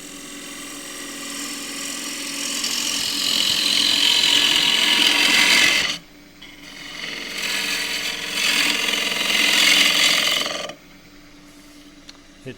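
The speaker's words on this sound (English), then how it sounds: "I need a really steep bevel to get round this corner, so I've got my 3/8 bowl gouge, 3/8 flute." A 3/8 bowl gouge with a steep bevel cuts round a tight corner of a turned wooden glasses stand on a lathe, giving two sustained, loud scraping passes separated by a brief lull, then quieter motor hum.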